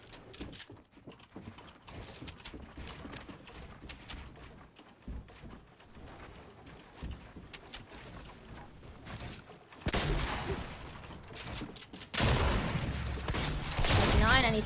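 Rapid bursts of shotgun and SMG gunfire from a creative-mode 1v1 shooter game, with a dense clattering stretch that turns louder and heavier near the end, while a voice talks over much of it.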